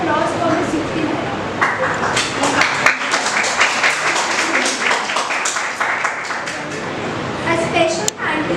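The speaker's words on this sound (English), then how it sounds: "A huge round of applause for Ms. Yukti Mehra" Audience applause at a business seminar on the Business Model Canvas, continuous loud clapping with sharp individual claps standing out and voices mixed in throughout.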